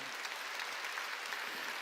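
Church congregation applauding during a sermon, a steady wash of many hands clapping at moderate volume, continuous and dense with no voices standing out.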